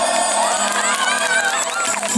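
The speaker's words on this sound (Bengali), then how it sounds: "একটু হাত তালিও।" Audience at a live concert at Yubagosti Club cheering and shouting, a dense, loud, continuous crowd roar with whoops that holds steady throughout without letup.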